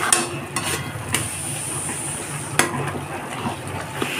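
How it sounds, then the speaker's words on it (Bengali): Bombay duck (lote fish) is stirred in a cooking pan, with scattered scraping knocks over a soft, continuous sizzle. "আবার লোটেটাকে নাড়াচাড়া করে দেব।"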